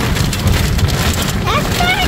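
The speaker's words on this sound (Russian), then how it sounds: "Вы только гляньте, какой град." Hail pelting down during a storm on a road near Bishkek, Kyrgyzstan, a dense, steady clatter of hailstones striking surfaces without a break, loud and continuous.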